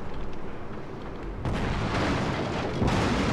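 Explosive artillery shells striking a ship in Total War Shogun 2's naval battle, heavy booming impacts and rumbling blasts, a quieter stretch followed by two louder bursts.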